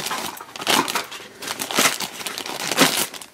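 A plastic blind bag package is cut open with scissors, giving several bursts of crinkling and crumpling plastic at close range, loud and irregular, with no talk.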